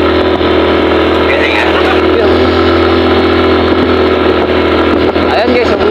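New Suzuki sports motorcycle engine straining up a steep mountain slope, a loud continuous droning rumble with a steady hum, heard close throughout.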